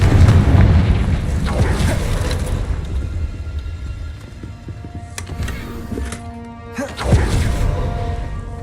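The Confringo fire spell from Hogwarts Legacy goes off as a loud booming blast over a rumbling game soundscape, with another burst near the end.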